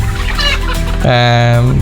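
A desi chicken clucks and calls, a few short notes followed by a longer drawn-out cackle, close and fairly loud.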